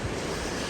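Water of a creek in the Smoky Mountains tumbles over cascades, a soft steady broadband rush heard from a distance, faint and unbroken with no voices.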